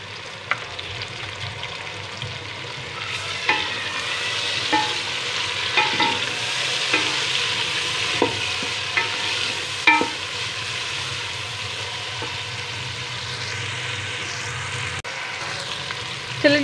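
Tomatoes sizzle steadily in a hot pan with browned garlic and ginger while a utensil scrapes and stirs with occasional clicks against the metal.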